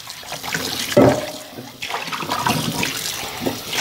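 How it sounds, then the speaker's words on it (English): Running water rinses a stone molcajete under a kitchen sink tap, a steady close splashing flow with a brief louder gush near the start. "I'm going to rinse it out really well."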